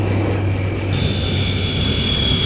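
A Dornier DO-28 twin-engine aircraft flies with one engine shut down at an air show, giving a steady, loud propeller-engine drone that holds evenly throughout with no talk.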